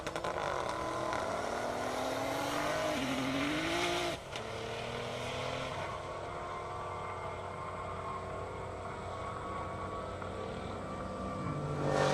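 A 2015 Nissan GTR and a 2021 Audi RS7 drag race on an airport strip, with loud sustained engine roar and rising revs through gear changes that blend into a continuous, gradually receding drone.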